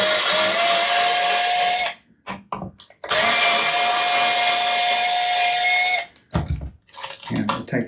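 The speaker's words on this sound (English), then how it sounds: "We just undo the" Power screwdriver undoing the neck bolts of a Fender MIJ Telecaster guitar, two loud sustained whirring runs with short pauses and handling noises between them, close up.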